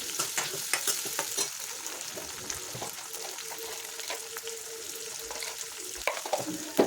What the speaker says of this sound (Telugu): అలాగే పచ్చిమిర్చి, కరివేపాకు కూడా వేసుకొని వేయించుకోండి.